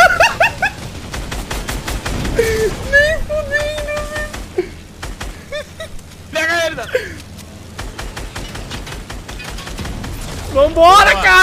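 Rapid bursts of gunfire from the Fortnite Season 7 video game crackle throughout, with sharp repeated shots under excited voices talking over the action.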